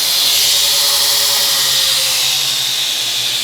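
A belt sander with a ceramic abrasive belt grinds freshly forged damascus steel, giving a loud, continuous, even hiss throughout with no pauses or talk.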